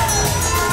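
Crowd at a wrestling event cheering loudly, a dense continuous roar of shouts and whoops over a very short stretch.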